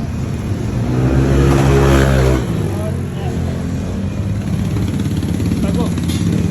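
A two-door car fitted with a new exhaust revs its engine, a loud throaty burst swelling for a couple of seconds before dropping back to a rumbling idle, with people chatting nearby.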